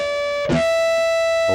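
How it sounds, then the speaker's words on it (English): A sustained, distorted electric guitar harmonic rings out with a bright, buzzing tone, briefly disturbed by a pluck midway before it settles again. "There's more harmonics that can be heard when the distortion is on."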